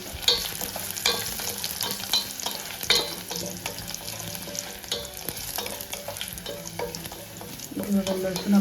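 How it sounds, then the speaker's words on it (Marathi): Crushed garlic and mustard seeds fry in a spoonful of oil for Maharashtrian dal palak, a steady close sizzle broken by scraping stirs and a few sharp spits from popping seeds. "त्याच्यात टाकूया आपण 1 चमचा तेल. त्याच्यात टाकूया मोहरी, लसूण जो मी ठेचून घेतलेला आहे"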